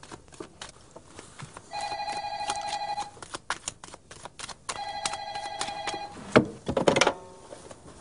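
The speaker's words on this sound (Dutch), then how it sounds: "Telefoon." An old landline telephone rings in two long bursts of bright electronic trilling separated by a pause, followed by a clatter as the receiver is handled.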